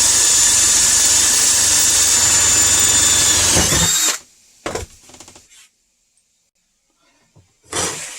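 A loud, steady power drill whines for about four seconds while drilling a clamped part for a Onewheel suspension kit, then stops; short bursts of handling and tool noise follow in near silence.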